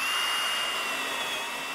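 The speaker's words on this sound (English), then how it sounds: "Plus it's fun to drill it using a hole saw." A steady high-pitched whine of a power drill with a hole saw cutting through material, continuous and close, with no pauses over the short stretch.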